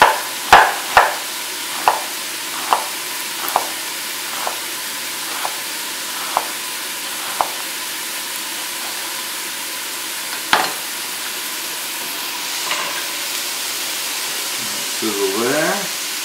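Onions frying in a sausage gravy pan, a soft steady sizzle beneath a series of sharp clinks and taps from stirring, with a voice briefly heard near the end.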